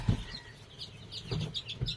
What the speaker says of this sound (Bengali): এটা হচ্ছে দেশি মুরগি